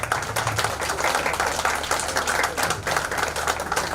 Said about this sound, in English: I think it needs a good clapping